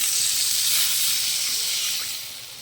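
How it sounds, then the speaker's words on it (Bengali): Water poured into a hot pan of frying fish and spices bursts into a loud, steady sizzling hiss that holds throughout and eases slightly toward the end, with no talking. "এবার আমি জলটা দেব।"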